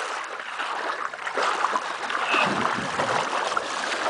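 Water on the Edisto River rushes and trickles around boats in a steady, broadband wash, close and continuous with no clear voices.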